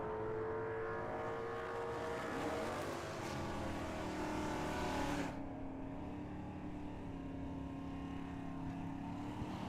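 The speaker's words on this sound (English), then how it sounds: "Now Stephen Lee, that left lane, 65 Mustang, that right lane, Alan Wilcox in that Chevy Corvette." Drag race between a 1965 Ford Mustang and a Chevrolet Corvette at Tucson Dragway, with a loud, sustained engine roar across the whole stretch that cuts down sharply about halfway, then continues as a steadier, lower drone.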